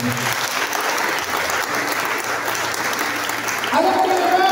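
A congregation applauding in a Catholic church service, steady loud clapping from many people that carries on without pause, with a voice rising over it near the end.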